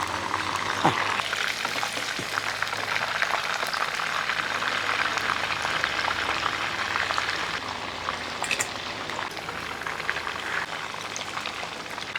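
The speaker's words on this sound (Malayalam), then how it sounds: "കരിഞ്ഞു പോകാതെ ഒരു മീഡിയം രീതി ഫ്രൈ ആക്കി എടുക്കും" Chicken pieces for chicken manchurian deep frying in oil, kept to a medium fry, give a steady, dense bubbling sizzle that holds at an even level from start to finish.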